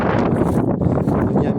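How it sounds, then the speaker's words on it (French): Dry wind gusting across an open orchard with sheep and ponies nearby, a loud, close, broadband roar buffeting the microphone steadily for the whole moment, with no voices. "Il y a pas mal de vent aujourd'hui, un vent un peu sec."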